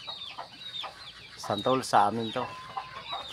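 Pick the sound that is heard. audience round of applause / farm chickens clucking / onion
farm chickens clucking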